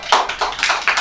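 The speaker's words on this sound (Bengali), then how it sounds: "ফোর্থ হচ্ছে আমাদের ত্রিশাগ্নি। হাততালি।" Applause for the fourth-place finisher in a quiz game comes as a handful of loud, close, uneven claps from a small group, with no talk over them.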